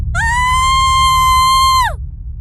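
A woman lets out one long, loud, sustained scream that holds steady for nearly two seconds before cutting off, over a low background rumble.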